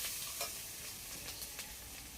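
Fried eggs and potatoes are stirred into ginger-garlic paste in a pan over an outdoor clay stove, a soft steady sizzle with a few faint scraping strokes, fairly quiet and close.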